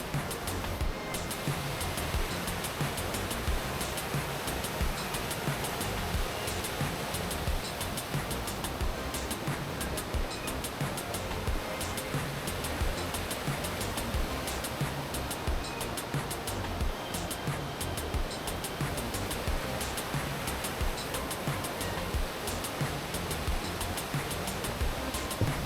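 Broadband rush of a waterfall in a Himalayan valley near Chitkul, close to the Indo-Tibet border, steady and loud throughout with no pauses.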